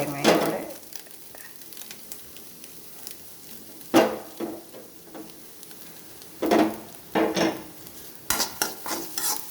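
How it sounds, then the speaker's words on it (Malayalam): Egg scrambles in a hot pan with grated coconut for a quick thoran, a low sizzle under repeated bursts of spatula scraping and stirring that come and go, close by. "നന്നായിട്ട് മുട്ട വറുണ്ട് വന്ന് തുടങ്ങിയിട്ടുണ്ട്"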